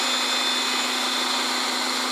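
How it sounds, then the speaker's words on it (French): A food processor mixing icing sugar with almond powder whirs at a steady high-pitched motor whine, constant and close, then cuts off abruptly at the end. "on va rajouter le sucre glace dans la poudre d'amande et on va mixer ça pendant 3-4 minutes"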